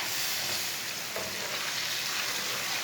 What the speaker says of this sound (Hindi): अब इसे 2 मिनट तक भून लेंगे